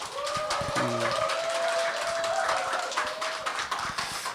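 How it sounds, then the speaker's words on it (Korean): A concert-talk audience breaks into applause, a broad continuous clapping wash filling the room, with a brief tonal sound and a few cheers rising above it midway. "자, 큰 박수로 시작하겠습니다."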